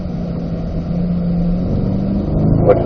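A Chevrolet Corvette C8 accelerates on a racetrack at a driving school, its engine droning steadily and rising slightly in pitch before a louder surge near the end, with no talking.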